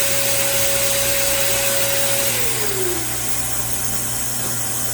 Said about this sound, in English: Shut off the vacuum cleaner.